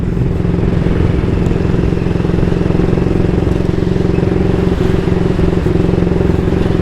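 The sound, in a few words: 1938 AJS Model 22 250cc motorcycle pulling in top gear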